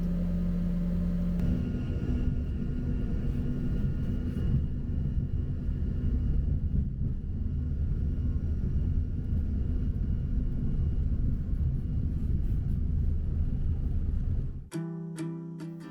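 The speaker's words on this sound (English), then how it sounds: "Today we're on one of American Eagle's Embraer 145, currently the smallest aircraft flying under the American banner" Steady, loud cabin roar of an American Eagle Embraer 145 regional jet in flight, a deep constant rumble with engine hum, ending in a sudden drop and a few faint chimes.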